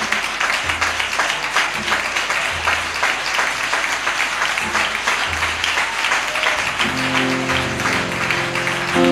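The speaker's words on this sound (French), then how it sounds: "Hey, applaudissez Jésus." A church congregation at a chapel dedication applauds in steady, continuous clapping throughout, with a sustained tone rising underneath near the end.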